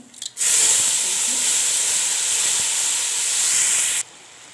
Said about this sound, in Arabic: ايه رايكم في الطشه بتاعه الرز دي؟